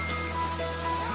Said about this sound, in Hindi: बरसात के दिन थे और जंगल में बहुत बारिश हो रही थी।